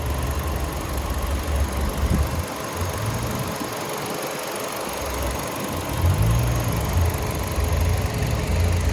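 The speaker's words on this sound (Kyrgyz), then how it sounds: "Мотор иштеши вообще идеальный экен, вообще звук жок эч кандай." A 2018 Kia Ceed with a 1.6-litre engine and automatic gearbox idles close by, a steady, smooth low hum with a slight rise toward the end and no voices.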